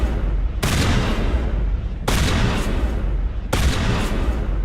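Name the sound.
shotgun fire in the video game Mass Effect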